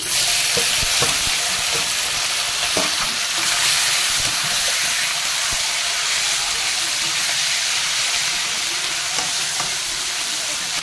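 Marinated chicken frying with spices in a pan, a loud steady sizzle throughout with occasional stirring clinks, no talk.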